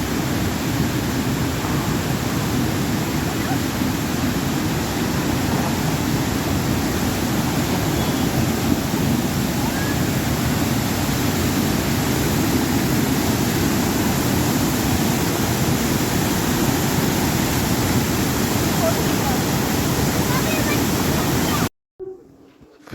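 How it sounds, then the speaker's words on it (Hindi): A loud, roaring waterfall at Nainital pours out a steady, dense wash of rushing water that holds for about twenty seconds and then cuts off abruptly. Faint voices sit beneath the din. "बहुत ही ज़्यादा आवाज़ थी पानी की"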